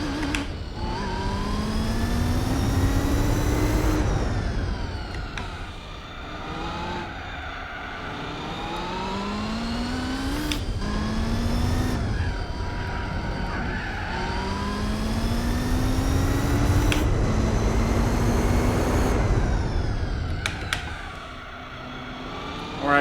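Race car engine in Gran Turismo 4 revs hard through repeated upshifts, pitch climbing and dropping in a steady rhythm, loud and close throughout with no talk.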